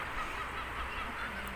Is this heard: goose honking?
yes